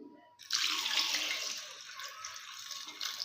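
Water pours from a tap into a pot of potatoes for cooking. After a brief quiet start, a fairly soft but steady splashing gush begins and continues until the end.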